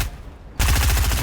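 Close, loud automatic gunfire in Fortnite starts abruptly after a quiet moment and keeps up as a fast, even rattle of shots until the end.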